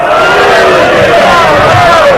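Loud massed crowd roar answering a Naara-e-Haidari slogan call at a majlis gathering in Multan, voices swelling together in one sustained shout that fills the whole clip.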